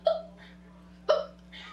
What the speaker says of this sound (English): It's a case of chronic hiccups.